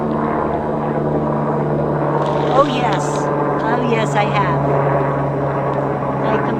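Helicopters flying overhead make a steady droning rotor hum that runs throughout, while a person talks briefly over it.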